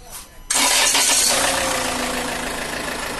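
A Land Rover diesel engine, its starter just repaired, is quiet for a moment, then catches abruptly and settles into a loud, steady, close idle with a slight knocking rumble.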